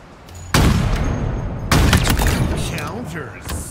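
Sharp, loud sniper rifle shots in Halo Infinite, two heavy booming reports about a second apart with ringing decay, set among game effects and a commentator talking over the action.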